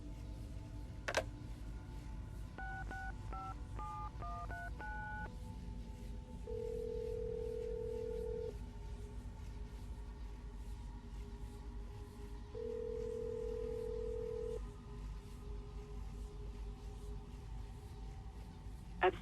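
Telephone being dialed in the Assassin's Creed Brotherhood video game: a quick run of dial-tone beeps followed by two long steady tones, with a sharp click at the start and end over a quiet background.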